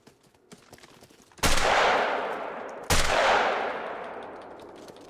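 Two loud, close shotgun blasts go off in the hunting game Call of the Wild, spaced about a second and a half apart. Each has a sharp attack and a long decaying tail, with faint clicks before them.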